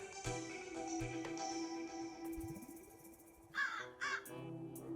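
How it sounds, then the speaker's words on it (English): Crows in a farming video game, trying to tear seeds out of the ground, give a few harsh caws over layered game music with a sliding tone; two louder, closer caws stand out near the end. "It was actually the crows trying to tear the seeds out of the ground."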